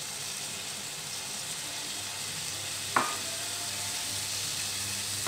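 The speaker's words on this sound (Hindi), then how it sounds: "इसे हम तब तक भूनेंगे जब तक ये अच्छे से मैश ना हो जाए" Finely chopped tomatoes frying in a pan for a home lunch, giving a bright, steady sizzle and hiss throughout, with one sharp clatter of a utensil midway.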